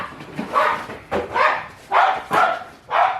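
An old dog barks close and loud, five separate woofs in an uneven rhythm, alone with no talk.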